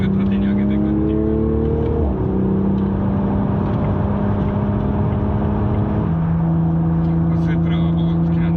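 A Toyota Supra accelerating gently out of a corner: a loud, steady engine drone from inside the car with shifts in pitch as the throttle rises, while someone talks over it.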